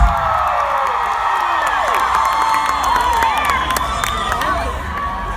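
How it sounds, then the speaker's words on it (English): A big farm tour crowd cheers, whoops and shouts continuously, with many overlapping high voices and scattered claps, loud and close throughout. "This has been our biggest farm tour crowd yet"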